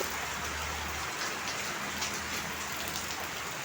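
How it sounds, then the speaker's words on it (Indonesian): Steady rain falls outdoors, a dense hiss of drops hitting the ground and surfaces, soft and even throughout with no voices. "Hujan teman-teman."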